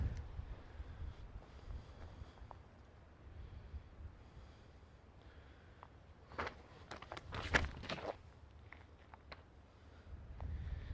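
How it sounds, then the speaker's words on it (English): Gusty wind buffets the microphone on an oak-lined downhill golf hole, a steady low rumble with stronger rushes swelling partway through, close and fairly loud with no talking. "Wind ripping off the back, off the right shoulder."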